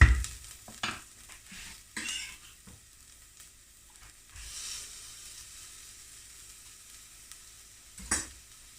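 Minced garlic is added to translucent onions frying in a pan. A soft, steady sizzle plays under occasional scraping and clinking stir sounds, fairly quiet and close.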